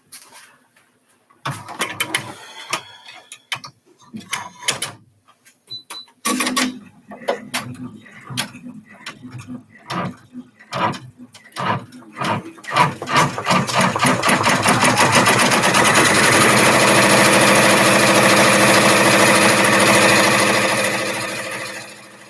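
A sewing machine stitching fabric runs in short stop-start bursts, then settles into a long, steady, loud whirr of rapid stitching that fades at the end, with no talking.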